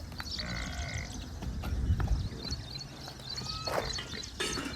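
A young female buffalo calf on a farm gives two short bleating calls, one early and one near the end, over constant outdoor background noise.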